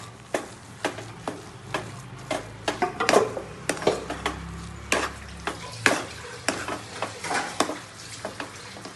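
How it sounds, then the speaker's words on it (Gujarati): A milk mixture stirred in a pan on the stove, a spoon scraping the pan in a steady rhythm of close, crisp strokes over a soft cooking hiss, with no voices. "આમાં જે ઓલું ક્રશ કરવામાં દૂધ નાખ્યું હતું ને એ બધું બળી જાય ને ત્યાં સુધી હલાવવાનું"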